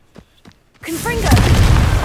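A Confringo spell goes off in Hogwarts Legacy, a few faint pops first, then a loud booming blast with a rumbling, crackling tail that fills the rest of the moment.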